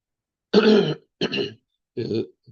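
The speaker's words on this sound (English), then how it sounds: "clear my throat" Someone clears their throat three times in quick, rough bursts, close to the microphone, with short pauses between.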